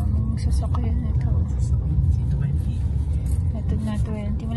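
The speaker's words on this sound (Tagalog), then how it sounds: "Daming sasakyan ito." Cars stream past on a road beside a Radium Hot Springs campground, a constant low rumble of traffic beneath people chatting.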